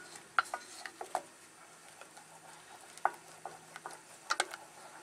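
Beer cheese sauce cooking in a beveled pot on a Blackstone griddle gives a faint, low bubbling sizzle, broken by scattered soft clicks and taps of a utensil against the pot, with no talking.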